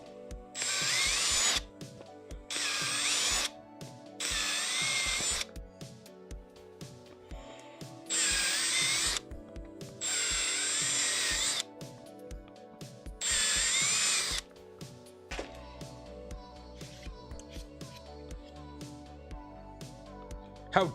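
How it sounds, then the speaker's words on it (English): A power drill bores out holes in a part for a DIY MILO v1.5 CNC machine build, running in six loud, whining bursts of one to two seconds each with short pauses between, then quieter handling sounds at the end. "I forgot to drill out these holes"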